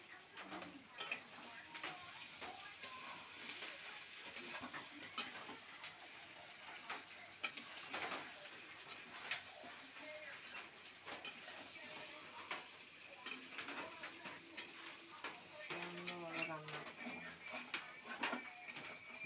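Meat being stirred in a hot pan, with a steady close sizzle and frying hiss, and repeated scraping strokes of the stirring running throughout.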